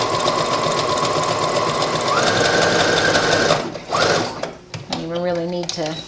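A sewing machine runs a zigzag stitch along the edge of a patch pocket with a flap, a loud steady mechanical whir for over three seconds that stops, followed by brief clatter and a short burst of stitching near the end.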